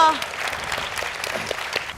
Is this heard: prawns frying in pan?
no